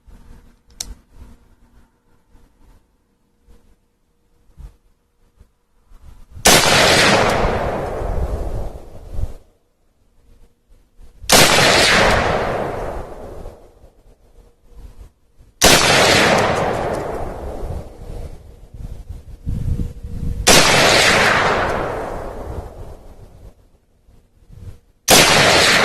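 Sharp, loud rifle shots from a Remington 700 varmint in .223 and an AR-15 ring out one at a time, with long pauses and echoing decays between them, four distinct reports in a row.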